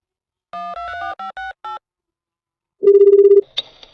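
A telephone call being placed: a short series of electronic keypad beeps, a pause, then a steady tone of about half a second followed by a brief higher chirp, all clean and close.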